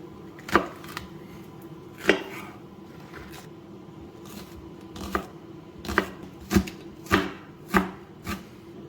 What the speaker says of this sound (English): Then finally slice up the whites.